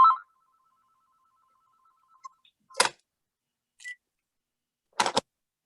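A landline telephone rings in a quiet room: a short electronic tone at the start, then a few separate sharp bursts of ringing spaced out over several seconds, fairly near and with no talking.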